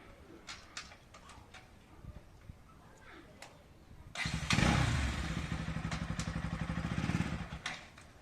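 A motorcycle engine starts nearby, revs, and putters steadily for a few seconds; before that, faint ticking and bird calls sound in the background.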